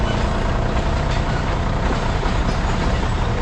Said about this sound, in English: this is a long and slow train